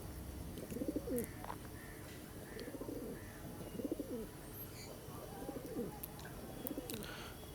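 Pigeons in a loft of Madras and Giribaj birds give soft, throaty coos in a regular rhythm, about one every second and a half, close by over quiet room noise with faint higher chirps.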